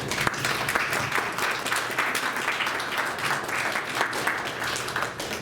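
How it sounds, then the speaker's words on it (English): A live show audience applauding, a busy wash of clapping at moderate loudness that stays steady without voices over it. "Let's give them a round of applause"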